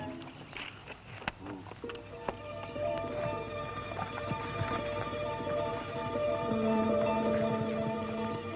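Horses' hooves clip-clop at a steady trot in an outdoor Western setting, a repeated rhythmic patter mixed with music and background sounds.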